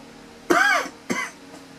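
Two close coughs from one person coughing up water, the first longer and harsher, the second short, near and loud with no speech around them.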